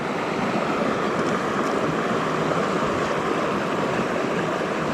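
Small clear-water creek flowing near waterfalls, a steady close rush and babble of water lasting the whole stretch with no voices.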